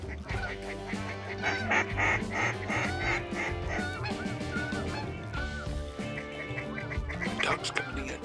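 Ducks calling during a Canadian duck hunt, honking and gargling quacks repeating in a dense, fairly loud chorus over the whole stretch with no talking.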